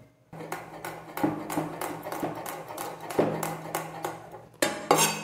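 A knife chopping garlic cloves on a board in a home kitchen: about a dozen sharp, close taps fall in a steady rhythm over a faint low hum, with no talking.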